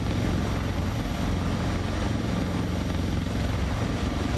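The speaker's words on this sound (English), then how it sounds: "I see the helicopter being buffeted around a little bit." A Sikorsky S-76C++ helicopter in a flight simulator is buffeted by crosswinds. Its dense rotor and engine roar is loud and steady throughout, with a constant high whine over it.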